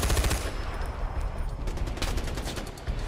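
A mounted machine gun fires in the video game Far Cry 4, loud sustained bursts of rapid gunfire with a heavy low rumble, continuous through the whole stretch.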